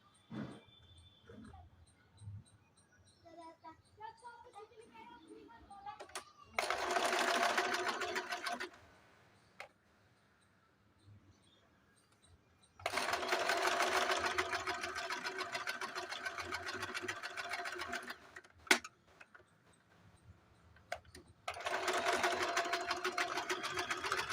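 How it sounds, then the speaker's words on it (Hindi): A sewing machine stitches diagonal tucks on a blouse in three loud, close bursts of rapid whirring separated by quiet pauses, with a dog whimpering faintly in the background. "यहाँ से हाफ इंच की दूरी से लेके यहाँ से यहाँ तक तिरछे में सिलाई कर देनी है"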